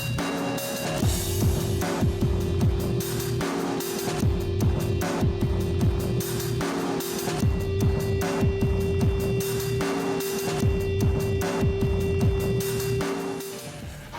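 A tabletop being sanded smooth gives a loud, steady, continuous grinding drone with a constant hum, running unbroken for the whole stretch and easing off only at the very end, with no talking.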